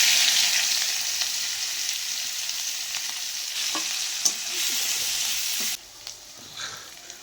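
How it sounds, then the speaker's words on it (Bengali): Cumin, onion paste and garlic paste frying in hot oil after prawns were fried, a steady loud sizzle with a few scraping stirs, dropping quieter near the end. "দিয়ে দিচ্ছি ফোড়ন আর জিরে, পেঁয়াজ বাটা, রসুন বাটা,"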